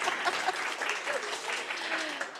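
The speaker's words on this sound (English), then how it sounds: "Applause" Moderately quiet audience applause at an Indigenous research event, a dense continuous patter of clapping with faint voices mixed in.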